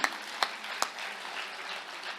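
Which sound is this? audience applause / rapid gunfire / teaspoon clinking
audience applause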